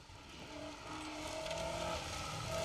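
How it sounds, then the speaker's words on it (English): Historic rally cars, including a Mark II, driving a forest stage on the Border Counties Rally in North Yorkshire, a steady engine drone building slightly in loudness over a few seconds, distant and continuous with no talk. "We can hear the cars for miles."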